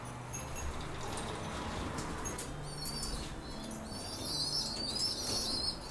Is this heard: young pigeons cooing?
yes